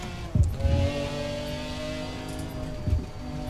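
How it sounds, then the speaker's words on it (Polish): McLaren with a 6.1 V8 engine in Forza Horizon 4, a steady engine drone with two short sharp revving bursts near the start and end. "To jest silnik ponoć od F1-ki."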